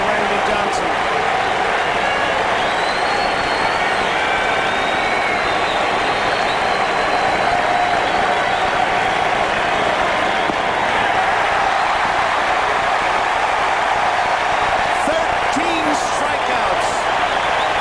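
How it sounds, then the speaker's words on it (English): Baseball stadium crowd cheering on a pitcher with two strikes on the batter, a sustained, loud roar of distant voices and scattered claps under a broadcaster's commentary. "The crowd's going to tell you as they root for Randy Johnson."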